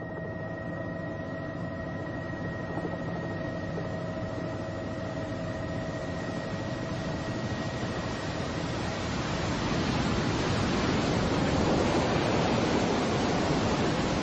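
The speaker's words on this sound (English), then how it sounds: "Plunging through the smoking water of the Tissisat Falls" Nile water plunging over Tissisat Falls in Ethiopia, a steady, dense roar of falling water that swells somewhat louder toward the end, with a faint tonal hum beneath and no voices.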